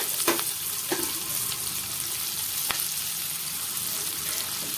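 Small shallots and curry leaves fry in groundnut oil with fennel seeds, giving a steady, moderate sizzle throughout, punctuated by a few faint clicks of stirring against the pan.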